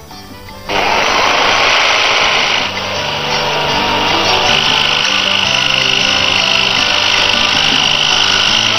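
A saw cuts through a sheet of veneer clamped onto chipboard, starting abruptly with a loud, steady rasping stroke that continues evenly for several seconds, close and alone.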